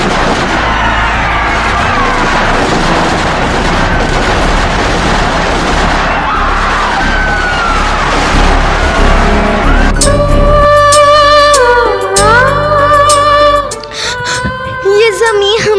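Soldiers fire guns and artillery in a loud battle scene set during British rule in India, a dense, continuous roar of blasts, later joined by sustained musical tones and voices.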